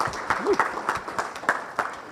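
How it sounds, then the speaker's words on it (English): An audience applauding a speaker at a Carroll County budget update event, a brief burst of clapping from a room of people, fairly close and even, with a voice briefly audible underneath. "So how about another round of applause for Mike McMullen"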